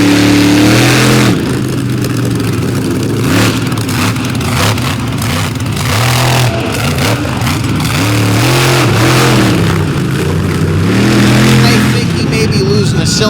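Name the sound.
monster truck engine revving at drag race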